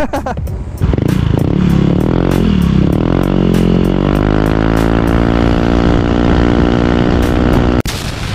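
A Yamaha NMAX V2 scooter with an aftermarket exhaust revs up hard with a loud, raspy roar, rising in pitch and holding steady, with sharp pops and crackles throughout.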